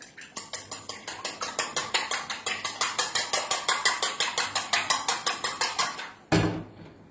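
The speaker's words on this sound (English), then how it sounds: "I'm just going to start to beat my eggs" Eggs whisked briskly in a bowl for French toast, a fast steady rhythm of about thirty sharp clinking strokes close up, ending in a brief louder clatter.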